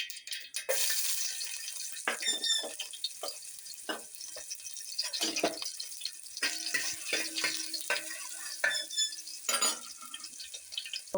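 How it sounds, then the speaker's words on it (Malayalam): Sliced onions go into hot coconut oil with popped mustard seeds in a kadai for thoran, bursting into a sharp sizzle followed by intermittent crackling and stirring scrapes, fairly close and with no talking. "കടുക് പൊട്ടിയിട്ടുണ്ട്, ഉള്ളി ഇട്ട് കൊടുക്കാം."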